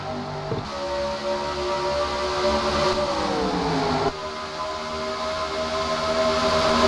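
Stock car race at Las Vegas restarting under green, engines roaring and accelerating loudly together, with rising pitch and shifting as cars pass close by.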